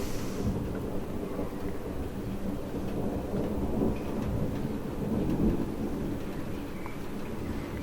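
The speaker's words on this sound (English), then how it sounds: "And now the rain increases more now" Steady rain hisses through a thunderstorm in northwest England as low thunder rumbles and swells in the background, with no voices present.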